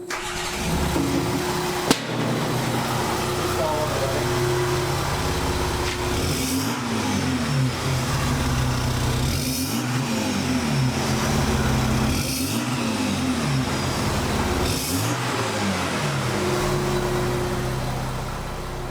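VW Amarok 3.0 V6 TDI diesel with downpipes and a custom exhaust starts up, settles into a deep idle, then gets several short revs that rise and fall, loud and close.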